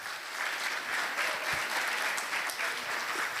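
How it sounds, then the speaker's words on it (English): An audience at an innovation talk event in Malawi gives its invited guests a round of applause, a steady, full clapping that holds evenly through the whole clip. "let us give another big round of applause to our invited guests"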